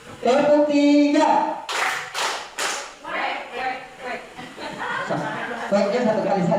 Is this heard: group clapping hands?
yes